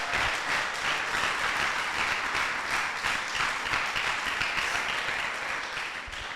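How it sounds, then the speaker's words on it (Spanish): A church congregation applauds loudly and continuously, dense clapping filling the room for several seconds without a break. "Si le va a dar ese aplauso, déselo fuerte al Señor."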